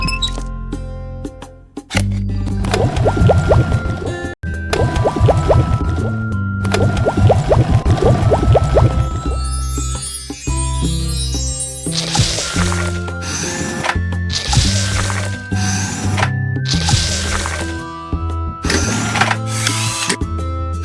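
Cartoon pouring of heavy cream and condensed milk at an ice cream bar factory, liquid filling effects mixed with steady, upbeat background music throughout.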